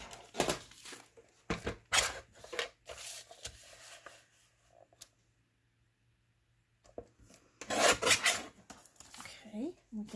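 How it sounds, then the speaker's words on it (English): Window envelope paper being cut with scissors and handled, with bursts of rustling, rubbing and snipping separated by a quiet pause, close by and with no voices. "So I'm just going to measure to about right here. And I'm just going to trim it off."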